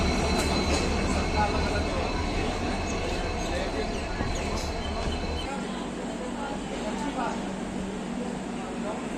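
A Vande Bharat train pulls into Vadakkav station on the Konkan Railway with a continuous rolling rumble and rail noise. The sound shifts in tone partway through as the train draws in, with voices in the background.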